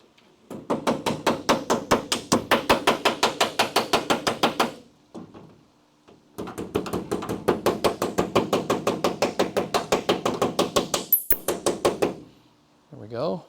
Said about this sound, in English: it's called a hammer and dolly. You can use it to form metal back into shape.